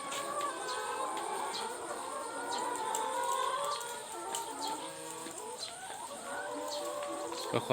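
Chickens cluck and squawk steadily around an egg-collecting spot on a farm, several birds overlapping at moderate distance with no talking, a louder squawk near the end.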